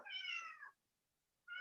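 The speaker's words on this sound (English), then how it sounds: "Sorry about my cat." A house cat meows indoors, one clear, fairly close cry followed by silence and the start of a second meow at the end.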